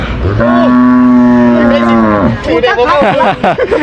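Cattle low loudly and close at a Thai cattle and buffalo market, one long sustained moo followed by rougher, broken calls, with crowd noise behind.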